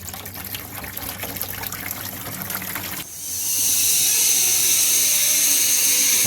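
Water from a drained whirlpool tub rushes down through PEX plumbing into a bucket, quiet trickles at first, then a sudden loud steady gush that fills the rest, close and with no talk.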